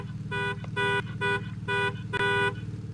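Car horn in a Roblox cart-ride game, sounding four or five loud, sustained honks in a steady rhythm over a constant low engine drone.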